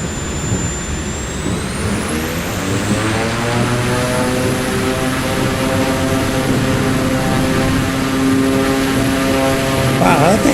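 A propeller airplane with its flaps set roars loudly and steadily through its takeoff run, the engine drone climbing in pitch and staying close throughout.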